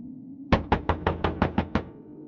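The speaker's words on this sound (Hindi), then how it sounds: "जैसे कोई अंदर से धीरे धीरे दरवाजा खटखटा रहा हो" Eight sharp, evenly spaced knocks on a wooden wardrobe door, as if from inside, come in a quick steady run for a horror story effect. They are close and clear over a low background hum.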